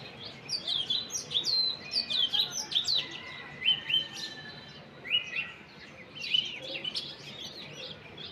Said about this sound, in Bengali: ওই যে দোয়েল পাখি ডাকতেছে